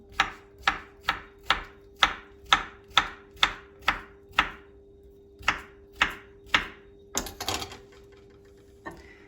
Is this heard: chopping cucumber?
yes